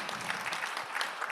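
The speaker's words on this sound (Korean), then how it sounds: "우리 다시 한번 박수 한번 좀 보내드리면 좋을 것 같아요" Quiet, distant round of clapping from a church alumni audience at a panel talk in Korea, steady and brief with no voices over it.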